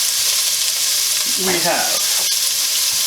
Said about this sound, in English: We're going to saute this for a few minutes.